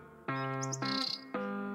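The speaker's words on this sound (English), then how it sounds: "Pigeon." A pigeon calls in a short burst of a few tonal notes, clear and close with nothing else audible.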